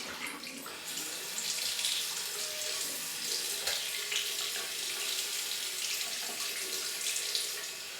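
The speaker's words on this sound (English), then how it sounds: "I'll fill it up with a bit more warmer water." Warm water runs steadily from a tap into a nasal rinse bottle, a continuous close splashing hiss that swells slightly as the bottle fills, with no talking.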